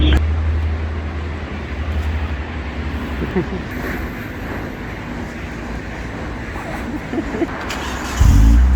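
A car pulls away after being pushed to get it moving, its engine rumbling low and steady alongside passing traffic, with people talking and laughing close by and a louder burst near the end.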